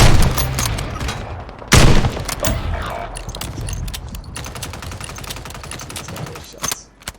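Gunfire in Call of Duty, a dense run of rapid shots with a sharp loud burst near the two-second mark, then steady repeated fire continuing at a moderate level before fading out.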